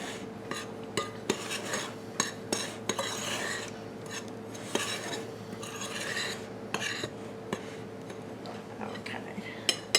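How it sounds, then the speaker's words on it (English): Dry ingredients for keto zucchini bread being stirred in a bowl, giving a steady gritty scraping and rasping with repeated clicks of the utensil against the bowl, fairly close and continuous under a low hum. "Stir these dry ingredients together just a little bit better to make sure everything is mixed up the"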